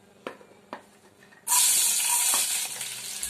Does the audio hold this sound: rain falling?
no